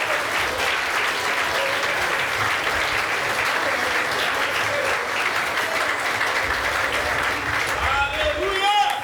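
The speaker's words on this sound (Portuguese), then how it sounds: "Vamos aplaudir ao Senhor mais forte em nome de Jesus." A church congregation applauds during an Easter cantata, sustained loud clapping from a large crowd in a reverberant hall, with voices faintly mixed in and a brief sung or spoken phrase rising near the end.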